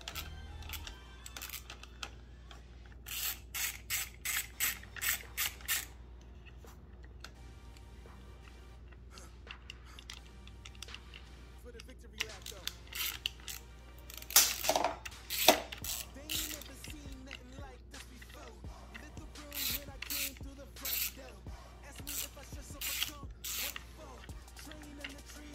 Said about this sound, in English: So both of the tri-head screws are backed out.